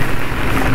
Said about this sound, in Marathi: जोरात वरनं पाणी पडतं.